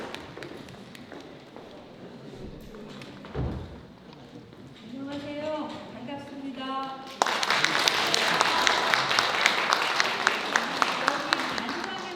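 Applause from an audience at a women's committee lecture in a high-staged auditorium, welcoming the lecturer; it swells suddenly partway through and continues steady and fairly loud, following quieter room noise with scattered taps and a brief voice.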